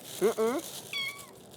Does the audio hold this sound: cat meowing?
yes